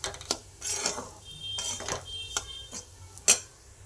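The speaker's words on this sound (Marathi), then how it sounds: "रवा पण 1-2 मिनिटं छान असा भाजून घ्यायचा आहे" A utensil scrapes and clinks against a pan while semolina (rava) is dry-roasted over a low flame for upma. The metallic taps and scrapes come in irregular bursts, close and fairly clear, with no talking.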